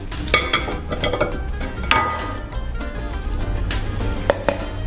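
A spoon stirs fresh peaches with sugar and lemon juice for homemade jam in a metal pot. Irregular scraping and clinking of utensil against the pan sound close and fairly loud, with no talking over them.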